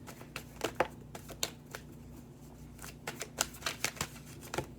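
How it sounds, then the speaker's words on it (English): Cards riffle and slap in quick bursts of crisp clicks, close by, with short pauses between shuffles and no talking. "I love when I shuffle my cards. I love that sound."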